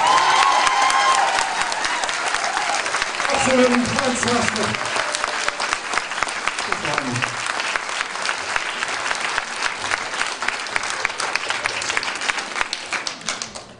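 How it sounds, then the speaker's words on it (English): A large audience applauds after a speech by an ambassador in Liverpool, dense sustained clapping lasting over ten seconds and slowly thinning toward the end, with a voice speaking briefly over it at the start. "I think we should give another round of applause."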